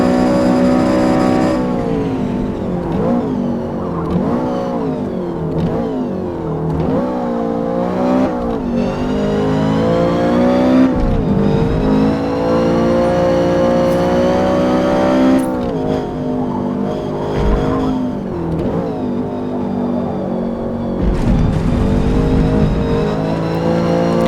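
Race car engines in Forza Motorsport, including a Toyota, scream loudly and continuously, revving up and down through gear changes with brief dips and tyre squeal, with no talk.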